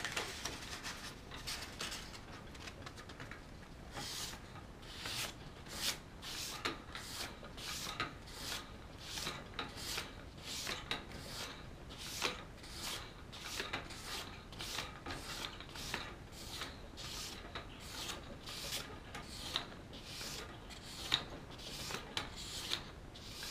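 A straight razor is drawn back and forth over 1200 grit sandpaper, making a fast, regular series of dry rasping strokes close up that run steadily throughout.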